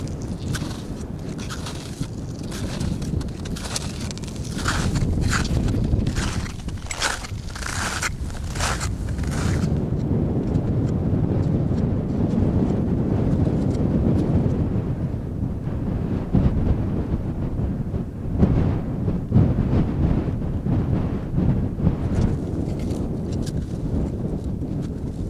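Wind buffets the microphone high on Mont Blanc, a loud, rough, continuous roar with gusts, mixed with crunching and scraping sounds throughout.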